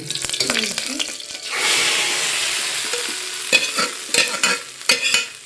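A tadka of two spoons of oil, cumin seeds and red Byadgi chillies sizzles loudly in a pan, a steady hiss with sharp spatters and stirring clatter.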